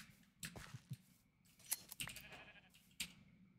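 A sheep in the video game Minecraft bleats faintly amid soft game clicks and clatter, short bleats scattered across a few seconds at low volume.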